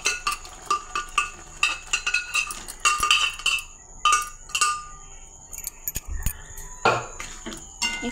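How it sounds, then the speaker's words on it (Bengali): Chicken meat gets stirred in a pressure cooker with a metal spoon, giving repeated sharp clinks and scrapes against the pot in an uneven rhythm, close and fairly loud. "একটু নেড়ে চেড়ে নিচ্ছি।"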